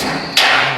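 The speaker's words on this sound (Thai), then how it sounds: "เราจะใช้ ค้อนที่เราได้มาค้อนเลยนี่" A hammer strikes once in the video game Freaky Clown Town Mystery, a loud broadband thud that bursts in partway through and rings on over a steady game background hum.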